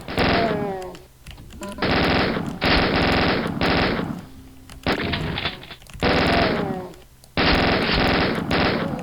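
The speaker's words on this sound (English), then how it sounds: "I'd always appreciate a good chain gun upgrade" Upgraded chain gun in a Quake mod firing in long sustained bursts, loud and close, with short pauses between volleys and no talking.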